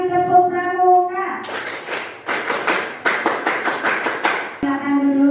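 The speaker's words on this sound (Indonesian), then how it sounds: "Sekarang satu kali tepuk pramuka." A classroom of Indonesian schoolchildren performs a Scout clap in unison: rhythmic bursts of sharp group claps in a patterned sequence, framed by a voice and a teacher speaking before and after.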